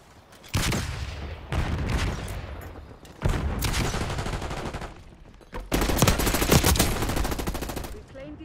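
Black Ops 6 video game gunfire: loud bursts of rapid automatic fire in four separate volleys, each cutting off sharply, with the last burst longest and densest.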